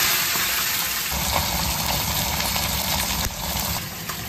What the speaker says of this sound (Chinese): 鱼下锅，